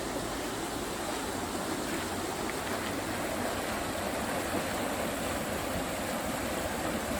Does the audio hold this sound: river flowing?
yes